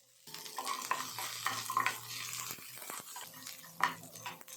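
Garlic pods, ginger and small onions fry together in a pan for Tamil Nadu style mint chutney, a soft, steady sizzle under repeated clinks and scrapes of a spoon stirring, close but fairly quiet.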